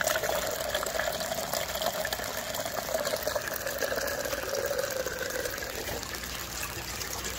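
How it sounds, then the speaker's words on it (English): Steady, continuous water flow pouring from an aquaponics U-siphon into a sump tank, a constant splashing gush at moderate level with no pauses and no talk. "As you can tell here, this is producing a nice flow of water."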